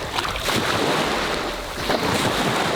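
Surf and breaking ocean waves fill the scene as a boat is launched into the waves for striped bass fly fishing, with steady wind buffeting the microphone throughout and no talking.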